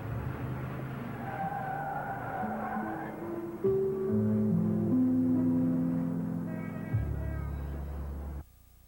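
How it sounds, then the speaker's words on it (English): A car skids and pulls away, tires squealing in sustained tonal screeches over a rumbling engine before the sound cuts off abruptly. "Move the car, Gunther"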